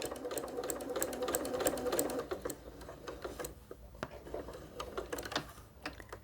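A sewing machine stitches a small pocket prayer quilt, whirring in rapid ticking bursts that slow into a few separate stitches near the end, close and clear.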